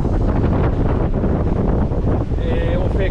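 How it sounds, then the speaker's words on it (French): Strong wind of 17 to 22 knots at sea buffets the microphone with a constant rough roar, water rushing beneath a sailboat making 6-7 knots, and a voice speaks briefly near the end. "Et là, il y a 17, 20, 22 nœuds de vent."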